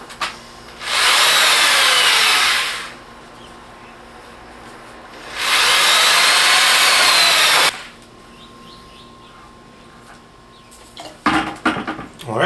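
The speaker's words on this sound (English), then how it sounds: "here's my power drill." A power drill with a mixing paddle churns a concrete patch in a bucket, running loud for two bursts of about two seconds each, then stopping, followed by scraping and knocking of the paddle against the bucket.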